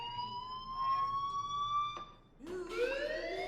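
A fire alarm sounds in Life is Strange Remastered, a steady electronic tone that cuts off and then restarts with a rising, siren-like sweep, fairly quiet and heard alone.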